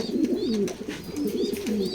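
A large, spirited male pigeon coos in a run of rolling, throaty phrases close by, continuous over the short span, with faint bird chirps above.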